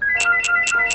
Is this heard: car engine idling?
no